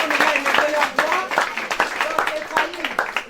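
A congregation applauds for the Lord during a visit to an orphanage, with sharp, uneven claps rippling close by under a speaking voice that carries over the clapping.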